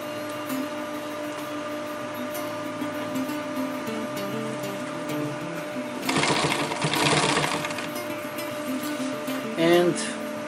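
Sewing machine stitching fabric for an EDC organizer, a steady mechanical hum with a louder burst of rapid stitching midway and another short run near the end, with faint talk beneath.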